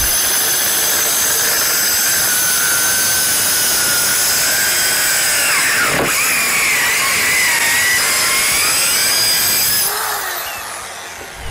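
A Hychika mini circular saw cuts with a shop vac dust collector plugged into its side port, a loud, sustained whine with shifting tones under the roar of the vacuum, stopping abruptly near the end.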